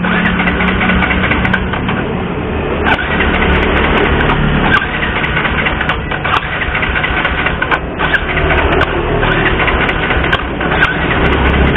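A motorcycle engine is cranked by its starter during a compression test, giving a sustained, rapid mechanical whirring chatter at an even level with no talk.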